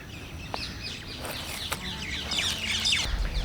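Many birds chirp and call outdoors in Delhi, with overlapping high tweets and trills scattered through the clip over a steady background hum, some calls close and others farther off.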